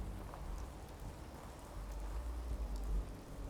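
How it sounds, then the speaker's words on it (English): Steady rain in a modded Fallout 4 game world, a soft, even hiss of falling drops spread across the whole stretch with a faint low rumble beneath, no voices. "And how rain works and how rain interacts with water."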